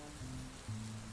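Rain falling on a night by a Scottish loch, a soft constant hiss of drops with a faint low hum beneath, quiet and even with no voices.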